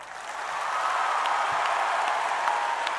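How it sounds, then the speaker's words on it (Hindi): A broad, steady wash of crowd clapping for children at an award event, swelling in the first half second and then holding evenly, with no voices standing out. "Let's give a biggest round and applause to all these children here."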